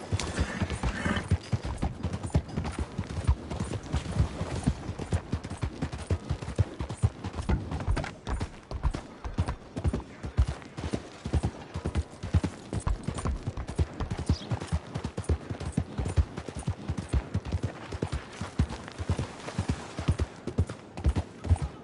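Horse hooves clip-clop in a steady, quick rhythm under a rider in the video game Red Dead Redemption 2. The beats are close and stay constant throughout, with no talking.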